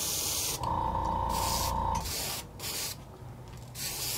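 Spray paint hissing onto a crawfish fishing lure for its first blue coat, several sustained close bursts separated by brief pauses, with a faint tonal whine underneath and no voices.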